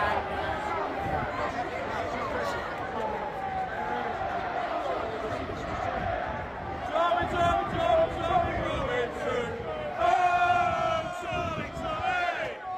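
A crowd of protesters shouts and clamors at a street protest with police present, a dense, continuous roar of many voices that swells louder in the second half, with bursts of raised yelling near the end.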